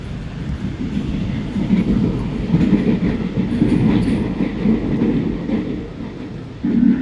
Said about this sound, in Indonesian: selamat datang di KRL Inka CLI 225 Transit 1